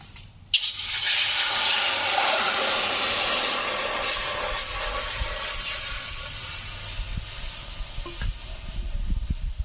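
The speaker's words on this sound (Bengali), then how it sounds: "কড়াইতে জল দিয়ে দিচ্ছি।" Water pours steadily into a kadai set on a lit clay stove, a continuous broad rushing splash that runs loud for about nine seconds after a brief start, with faint clatter near the end.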